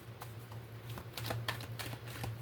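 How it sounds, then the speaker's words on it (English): Tarot cards are shuffled close up in soft, quick riffles and taps, several short bursts over a low steady hum. "I'm shuffling."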